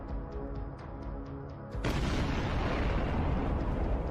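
A T-90 tank hits a mine, setting off a sudden loud explosion that bursts midway through and sustains as a heavy rumbling roar after a steadier mechanical hum.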